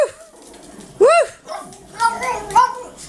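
A pug at home giving a few short yips and whimpering barks, loud and close, interleaved with a person's coaxing voice and imitated woof sounds.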